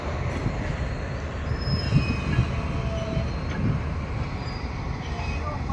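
A goods train rolls past at Parli Vaijnath railway station amid line-doubling work, making a continuous heavy rumble with faint high wheel squeals over the top.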